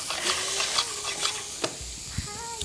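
Chicken and vegetables, including carrots, sizzle in a frying pan with a steady hiss, broken by a few stirring scrapes and clacks close by.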